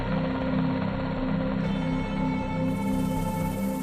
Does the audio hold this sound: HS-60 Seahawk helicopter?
yes